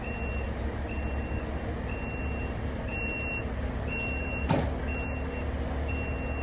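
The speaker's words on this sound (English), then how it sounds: "It's a stumpy truck, but I suppose it's so that the high-ab can reach the back of it" A short-wheelbase truck reverses with evenly spaced, repeating reversing beeps over a steady low engine rumble, with one brief sharp clatter partway through.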